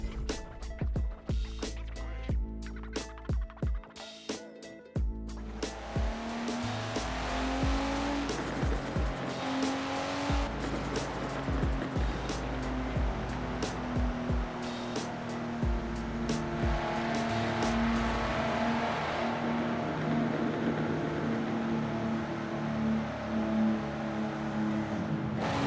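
A Nissan GT-R is driven with its engine revving and droning steadily, starting with choppy bursts and settling into a sustained loud engine note with rising and falling tones.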